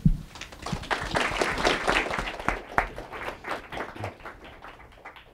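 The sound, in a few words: audience applause welcoming panel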